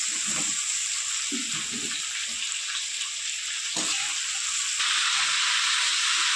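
Prawns fry lightly in oil with a dense, steady hiss of sizzling that stays close and fairly loud, broken by a few low bumps and a slight rise in intensity near the end.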